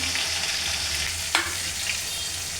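Chopped onion frying in hot oil with asafoetida and ginger-chilli paste for pav bhaji gives a steady, close, loud sizzle with one brief scrape or clink partway through and no talking.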